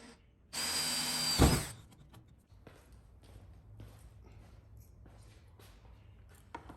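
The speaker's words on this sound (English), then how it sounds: "I'm going to drill 2 small holes in here to attach the carabiners" A single short burst of a power drill whirring loudly, close up, drilling small holes in a kayak, followed by quiet background noise and faint knocks.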